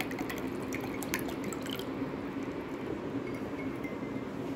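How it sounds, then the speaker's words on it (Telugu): Water is poured into a homemade raw-mango drink, giving a continuous soft trickle and splash with a few light drips and clinks near the start. "ఇందులో కూడా కొద్దిగా వాటర్ యాడ్ చేయాలి"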